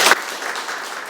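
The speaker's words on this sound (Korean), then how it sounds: "발표 순간 신자석에선 기쁨과 환호의 박수가 터져나왔습니다." Congregation applause in a Catholic church following the announcement of a new bishop, a soft, continuous clapping wash after a brief louder sound at the very start, lasting about a second.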